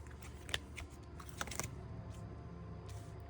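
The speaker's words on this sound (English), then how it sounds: "I always like to shuffle on screen so you guys can see what's going on" Earth Magic oracle cards are shuffled close by, soft riffling and flicking with a few sharper snaps, light and irregular.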